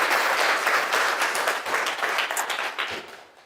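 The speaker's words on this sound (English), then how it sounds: "I'd like you to give her a warm welcome and a round of applause" An audience bursts into warm applause to welcome a workshop speaker. The dense clapping is loud and sustained, then thins out and fades over the last second.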